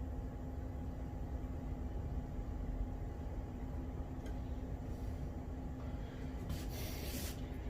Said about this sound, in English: And I'll just spray the outside everywhere.